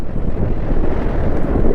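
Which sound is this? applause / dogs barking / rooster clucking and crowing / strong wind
strong wind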